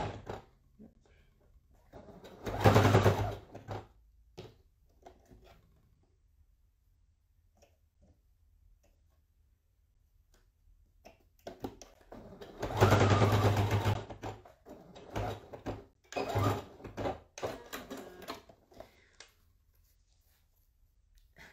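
A sewing machine stitches a mermaid-style fabric pouch in two main loud bursts of whirring, separated by pauses with faint handling clicks and shuffles. A shorter run of stitching follows, close and alone, with no talk.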